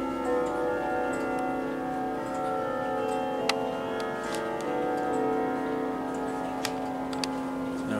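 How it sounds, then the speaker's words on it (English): A Seth Thomas golden oak clock ticks steadily amid a shop full of other clocks, its regular ticking layered over a dense, ringing hum of sustained tones with occasional sharper clicks. "There was actually this clock going off."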